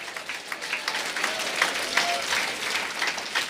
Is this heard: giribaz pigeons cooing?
no